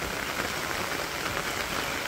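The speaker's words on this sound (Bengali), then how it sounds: "আপনারা দেখেন বৃষ্টি কি অবস্থা।" Rain pouring in a Bangladeshi village, a thick uniform wash of drops striking nearby surfaces, loud and unchanging over the short span, with no one speaking.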